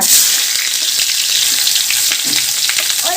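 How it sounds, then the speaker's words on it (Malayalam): Onion fries in hot oil with mustard seeds in a home kitchen, a loud steady sizzle with faint crackle and occasional stirring, close and uninterrupted by talk. "ആദ്യം എണ്ണ ഒഴിച്ച് കടുകിട്ടു ഉള്ളിട്ടു"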